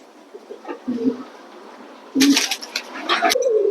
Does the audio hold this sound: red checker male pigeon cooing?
yes